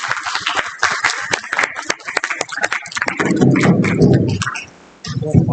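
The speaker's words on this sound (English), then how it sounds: "Please give ma'am a big round of applause." Audience applause at an architecture training event, a burst of many hands clapping in an indoor hall that thickens into a dense crowd wash before fading out.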